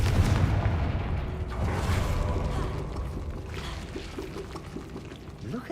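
The Confringo blasting spell in Hogwarts Legacy hits with a heavy rumbling blast that tails off into crackling debris and lighter pops, with no voices.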